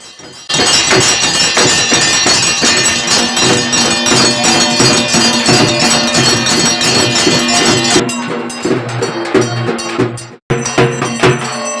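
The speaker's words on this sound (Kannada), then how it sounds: "ಶಂಖ, ಜಾಗಟೆ, ಗಂಟೆ ಮೊಳಗುತ್ತಿದ್ದಾವೆ." Bells, gong and conch ring together during a village temple puja for Anjaneya, a loud, dense, continuous metallic clangour with rapid strikes that thins briefly near the end before resuming.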